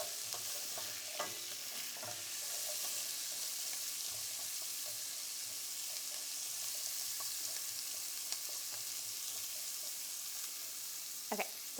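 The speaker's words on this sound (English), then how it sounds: "gonna let that start to saute and get a little bit brown" Carrots sautéing in olive oil in a pan while a French dinner is being cooked: a steady, close sizzle runs throughout, broken by a few brief clinks and scrapes of stirring.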